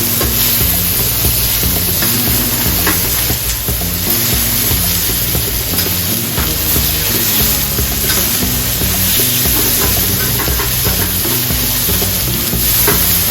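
Snapper fillets frying in a hot pan produce a loud, constant sizzle with crackling spatter and a low steady hum underneath, no voices.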